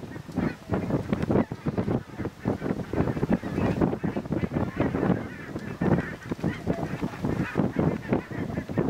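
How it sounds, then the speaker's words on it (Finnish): Geese honk repeatedly in a dense, overlapping chorus around a lakeside wetland, fairly close and continuous, with light wind noise on the microphone. "Hanhet tota laulelee tuolla taustalla."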